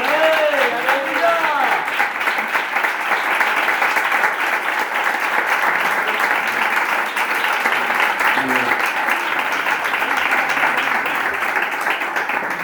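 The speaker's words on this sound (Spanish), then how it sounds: "Yo creo que merece un aplauso más fuerte," Loud, sustained applause from a church congregation fills the room, steady throughout, with a few voices calling out over the clapping near the start.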